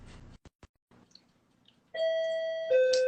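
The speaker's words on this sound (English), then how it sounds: "My doorbell is ringing" A two-tone electronic doorbell chime rings out clearly, a sustained higher note dropping to a lower one, after a few brief soft noises.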